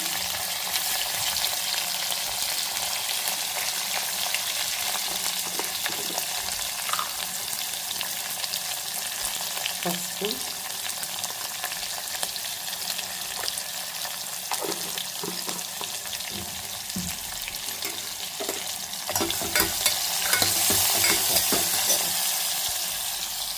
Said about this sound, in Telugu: ఆనియన్స్ పచ్చిమిర్చి ఇది కొంచెం వేగాలన్నమాట